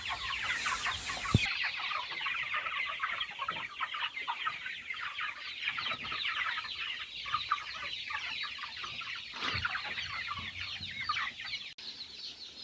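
A flock of five-week-old broiler chickens on a poultry farm clucking continuously, a dense, busy chorus of overlapping clucks and chirps, fairly close and steady throughout with no talk.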